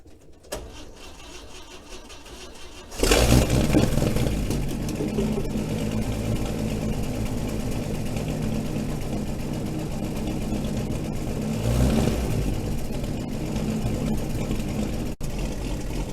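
A 1938 GMC truck engine cranks and catches after a quiet start, then idles steadily and close with a brief rev partway through.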